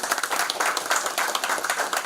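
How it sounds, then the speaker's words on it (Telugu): An audience claps steadily at a company's 10th anniversary celebration, a dense continuous patter of many hands, fairly loud and close, with no speech over it. "గట్టిగా క్లాప్స్ కొట్టి"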